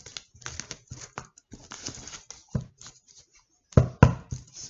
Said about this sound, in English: Let's cut the deck for Aries.